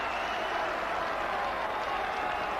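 A football crowd roars continuously at Bootham Crescent, York City's ground, during a 1996–97 League Cup tie against Everton, a dense, sustained wall of cheering and applause with no break.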